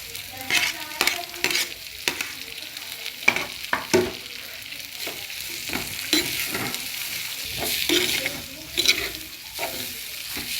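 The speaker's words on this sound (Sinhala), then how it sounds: "මේක හොඳට බැදෙන්න ඕනේ" Sausages fry in hot oil with onion, chili, curry leaves and rampe while being stirred, giving loud sizzling with repeated scraping and clattering stir strokes over about ten seconds, no voices.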